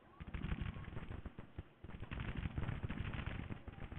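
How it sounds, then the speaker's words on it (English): Rapid, uneven volleys of musket and cannon fire from a Civil War strategy video game crackle continuously and fairly loud, with a brief lull midway before the shooting resumes. "guns firing."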